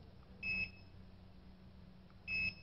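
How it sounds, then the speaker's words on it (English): An LED RGB controller in color-changing mode emits two steady electronic beeps at its top speed level, each roughly a third of a second long and spaced about two seconds apart, standing out clearly over a low background hum. "When you reach to the last level, there is a long beep."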